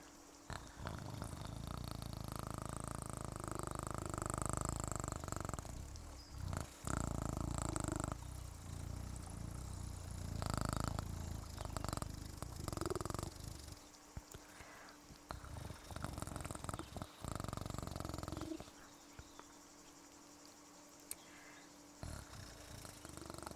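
A cat purrs close by in a low, rumbling, rhythmic drone, loud for long stretches before it thins into softer, broken passages.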